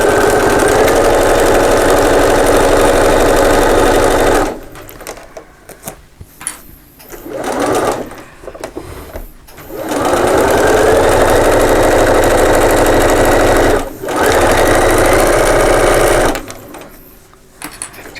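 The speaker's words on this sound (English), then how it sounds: "Now you can do a back stitch." A sewing machine runs in loud, steady bursts of rapid stitching while back-stitching a lined organiser bag seam, with two long runs separated by short pauses and small clicks.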